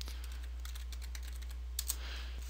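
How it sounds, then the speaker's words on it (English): Quick, light keystrokes on a computer keyboard tap out a terminal command, soft and close over a steady electrical hum, with a couple of firmer presses near the end. "open up the terminal and type in the command sudo apt-get install and then MagicRescue"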